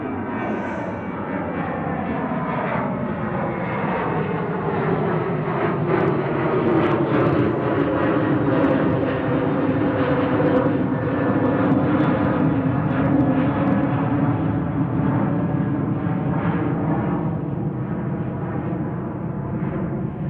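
A Ryanair airliner at Manchester Airport makes a loud, continuous engine roar that swells and falls slowly over twenty seconds, with a droning, rumbling texture close by and no talk.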